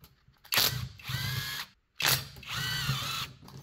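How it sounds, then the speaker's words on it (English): A power tool works a 10mm brake caliper bolt on a 2012 Silverado 2500HD in two bursts, each a sharp rattling hit followed by a whirring, ratcheting spin, loud and close. "That 10mm on an impact gun."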